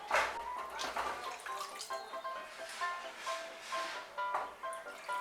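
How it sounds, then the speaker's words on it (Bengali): Water poured into a cooking pot while making Bengali rui fish curry, a close, steady splashing and dripping stream with brighter bursts at intervals. "এর মধ্যে এখন আমি জল দিয়ে দেব"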